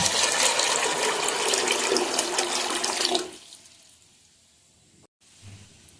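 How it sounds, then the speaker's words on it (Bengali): Water pours into a cooking pot of dried peas as a steady, close splashing stream that stops abruptly after about three seconds, leaving quiet with a faint knock or two. "পরিমাণ মতো পানি দিয়ে দিচ্ছি"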